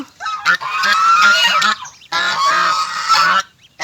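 Geese honk loudly and close by in two long, overlapping bursts of harsh, nasal calls separated by a brief pause, with newly hatched goslings nearby.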